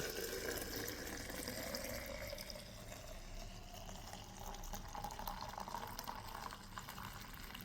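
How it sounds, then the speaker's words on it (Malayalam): A continuous stream of warm milk pours steadily into a bottle, a soft, even trickling wash with no voices. "ഈ പാല് ഈ കുപ്പിയിലോട്ട് ഇതുപോലെ ഒഴിക്കാം."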